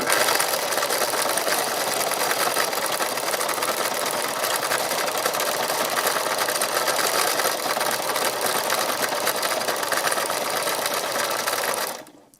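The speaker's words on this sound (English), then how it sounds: "this is where free machine embroidery is really helpful, because you can just wander around where you want to go" A sewing machine runs free-motion embroidery stitching on fabric, a steady, dense, loud mechanical whir that continues unbroken for about twelve seconds before stopping abruptly at the end.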